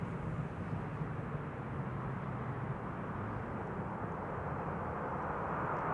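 A large jet at Amsterdam Schiphol Airport roars as a steady, broad, moderately loud engine rumble heard from a distance, constant throughout with no voices.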